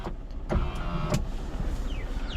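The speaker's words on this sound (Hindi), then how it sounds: "एक बार विंडो डाउन कर देता हूँ।" A Tata Nano's electric power window being lowered with the engine idling, a short motor whine over the steady low hum of the small car, ending with faint thuds.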